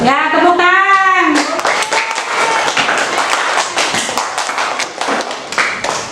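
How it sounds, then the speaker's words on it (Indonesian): Schoolchildren clap hands in an elementary classroom after a group presentation on photosynthesis, a dense run of quick sharp claps following a brief sung or spoken voice at the start, loud and close throughout. "Ya, tepuk tangan."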